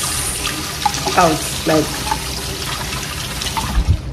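A household tap runs with a steady hiss of water downstairs, close and continuous, while a person talks intermittently and a few thumps sound near the end.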